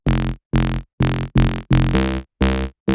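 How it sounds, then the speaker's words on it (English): A deep, buzzy saw-wave synth bass, pitched down two octaves, plays eight short, evenly spaced staccato notes in a steady rhythm, loud and alone. "we have a saw wave, and that's pitched down by 2 octaves"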